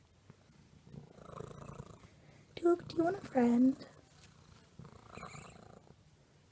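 A pet cat purrs softly and continuously at close range during a relaxed family moment at home, while people talk over it in clear, louder bursts.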